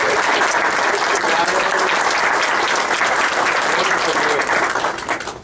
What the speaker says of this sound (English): how about a round of applause for Stacy Waller and the food services?